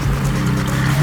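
A Ferrari 360 engine roars steadily and loudly in a brief, sustained burst of dense mechanical noise at a circuit, with no voices.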